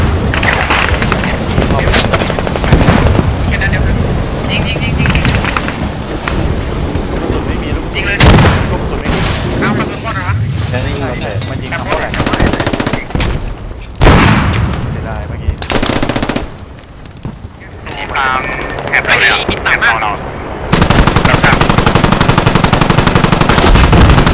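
Rapid machine-gun bursts and heavier booming shots crack out during a Squad tank battle, loud and close, in fast volleys with brief pauses, while players talk excitedly over the fire.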